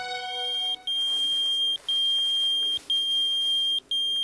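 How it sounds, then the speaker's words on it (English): Shrill electronic beeping of a pager going off in grass outdoors, repeating in steady one-second pulses with short gaps, loud and insistent, no voices. "The sound of a pager going off in the grass a few feet from the victim."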